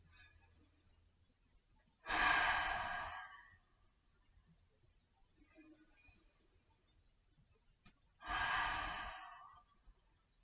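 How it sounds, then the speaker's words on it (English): Children take two slow, deep audible breaths during a kids' yoga class. Each is a strong breathy exhale lasting about a second, separated by quiet with faint background noise. "And we're going to breathe."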